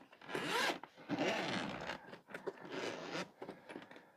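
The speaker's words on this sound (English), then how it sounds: "Nice zippers" A zipper on a Lenovo Legion Go padded case is drawn open in several long rasping pulls, close by, with brief pauses and soft rubbing between strokes.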